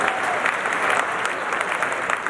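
Steady applause from a sizable audience, a dense wash of clapping that holds throughout without voices standing out.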